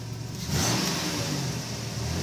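Minivan engine running shortly after a cold start, a steady close idle that swells briefly with a light rev before settling back to a continuous hum.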